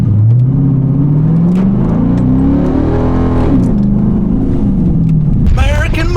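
A modified Dodge Charger R/T with full bolt-on upgrades, its engine loud and close from inside the car as it revs up and down through rising and falling pitch while being driven.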